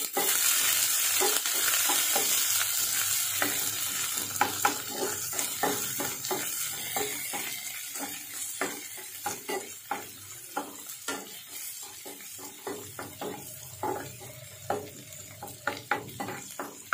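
Onions and curry leaves fry in a pan, a hiss that fades gradually behind repeated rhythmic spatula scrapes and taps, close by with no talking.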